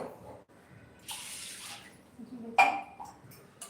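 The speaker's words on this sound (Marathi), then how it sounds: "हा साबुदाणा आपण धुवून घेणार आहोत" Sago pearls being washed in water give short, quiet bursts of splashing and sloshing, with brief pauses between the washes.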